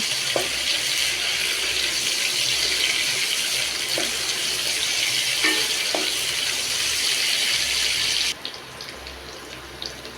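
Chopped onions sizzle in hot mustard oil tempered with nigella seeds, frying until reddish-brown: a steady, loud, close hiss with a few spoon-stirring clicks, easing to a softer crackle near the end, with no voices.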